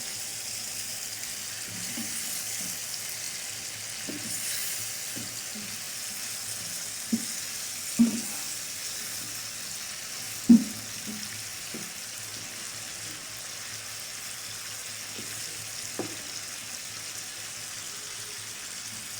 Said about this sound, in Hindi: फाइव मिनट के लिए हम इसको मज़ीद फ्राई कर लेंगे इन्हीं मसालों के साथ।